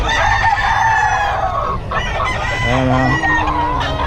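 Chickens cluck close by while a rooster crows loudly, with brief voices mixed in, at a backyard coop in Bocaue.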